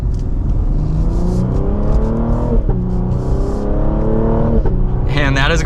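A 2024 Cadillac CT5V sedan accelerates hard, its engine note climbing in steady rising steps with a brief dip at a gear change, loud and continuous from a close interior perspective, with a voice heard at the end.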